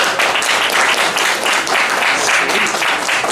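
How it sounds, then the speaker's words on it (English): An audience at a game exchange panel applauds, steady full-room clapping that carries loud and unbroken from start to finish. "How about a round of applause for these guys?"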